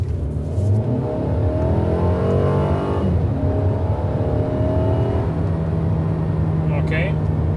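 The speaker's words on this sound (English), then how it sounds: "So one more acceleration here." A 2020 Mercedes-AMG A220 accelerates hard from 40 on a night drive, its engine note climbing steadily in pitch and loudness inside the cabin before a brief shift dip, then pulling up again.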